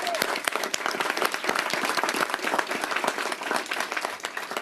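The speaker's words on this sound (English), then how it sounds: "Let's give them a round of applause." A press event crowd gives a round of applause for city council members, a fairly close, irregular patter of individual hand claps that stays lively for several seconds, with some voices faintly mixed in.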